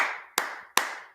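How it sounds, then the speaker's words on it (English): Three sharp, separate hand claps ring out at an even pace, each with a short fading tail, in a quiet room with no voices. "I keep clapping for you"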